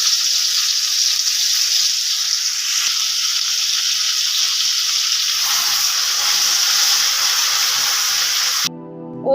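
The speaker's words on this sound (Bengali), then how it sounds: "ওই বাটির মধ্যে কষানোর জন্য অল্প পরিমাণ জল দিয়ে দিলাম।" Water splashes into a hot kadai of frying masala made from cashew-tomato paste and cumin seeds in oil, for matar paneer. A steady, loud broadband sizzle and hiss runs throughout, shifts partway, then cuts off abruptly near the end.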